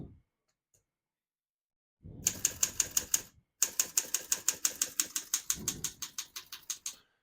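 Keys clack on a 1935 Underwood Universal portable typewriter in quick, steady runs of crisp strikes. A short pause splits the bursts, the typing is close, and no one talks.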